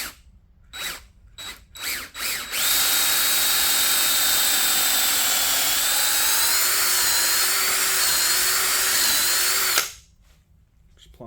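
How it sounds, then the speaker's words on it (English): A power drill bores a center hole in a wooden table leg: a few short revving bursts, then one long, loud, steady whine for about seven seconds before it winds down, close up and without talk. "I'm going to take my drill bit."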